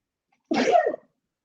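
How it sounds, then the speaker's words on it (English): One sharp, close sneeze bursts out of silence and ends quickly. "I'm gonna sneeze."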